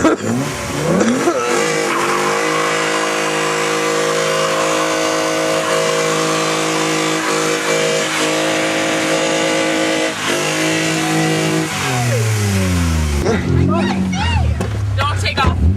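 A car does a tire burnout with a loud, sustained engine roar and screeching tires for about thirteen seconds, then the revs drop and the squeal breaks off. People shout nearby.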